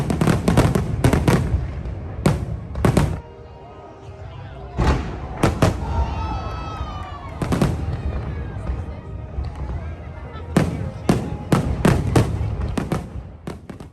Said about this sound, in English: we got to see one of the biggest fireworks displays we've ever seen